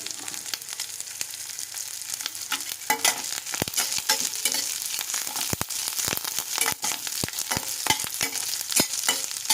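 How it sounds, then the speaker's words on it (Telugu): Rice fried with ajwain seeds in a pan sizzles steadily while a spoon scrapes and stirs, giving sharp irregular clicks over a constant hiss, close and fairly loud with no talk. "దీన్ని బాగా ఫ్రై చేసుకోండి. అండ్ వాము కూడా వేసుకోండి."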